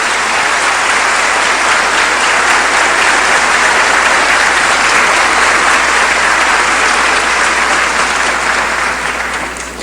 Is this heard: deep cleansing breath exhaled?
no